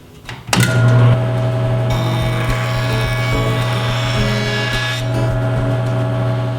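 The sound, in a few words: board run through a jointer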